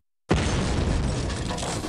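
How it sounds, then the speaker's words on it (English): An explosion in a cryogenics laboratory bursts in suddenly after a brief silence, loud and close, followed by a sustained roaring rumble that carries on to the end. "Dewar had many explosions in his lab."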